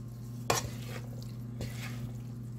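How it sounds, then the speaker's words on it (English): Soft stirring of potatoes and egg in a pan for a Mediterranean breakfast, with a couple of distinct scrapes against a steady low hum, quiet and close with no talk. "after I get finished stirring all this up"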